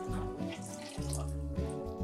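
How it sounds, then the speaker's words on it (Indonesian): Water pours steadily into a cooking pot for tamarind syrup, over white sugar, palm sugar and pandan extract. The flow is close and continuous, with no talking. "tambahkan 1 liter air"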